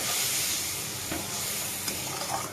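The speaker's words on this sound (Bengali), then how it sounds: "জল দিয়ে একটু ভালো করে ভেজে নেবো" An onion-spice masala for a vegetarian potato curry fries in a pan after a splash of water. It gives a continuous close sizzle and hiss, broken by a few scraping stirs.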